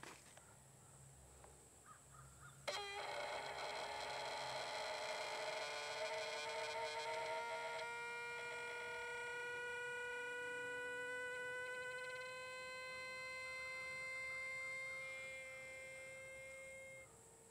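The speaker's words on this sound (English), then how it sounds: "That noise you heard is normal and is the sound of the air rushing past the check valve into the gun." Compressed air filling a Hatsan Flash Pup .22 PCP air rifle through its check valve, up to 200 bar: a sudden onset, then a steady whistling, singing tone with rich overtones that holds for about fifteen seconds while its pitch slowly drifts, with no voices.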